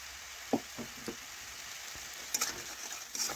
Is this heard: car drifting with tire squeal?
no